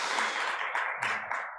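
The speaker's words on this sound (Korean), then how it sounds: "박수 한번 쳐." A congregation at a Sunday church service in Daejeon gives a brief burst of clapping, a few uneven waves of hands lasting under two seconds.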